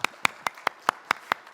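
Rhythmic, evenly spaced claps, about eight in under two seconds, sharp and fairly close, with no talk over them, from a church congregation clapping during a Sunday service.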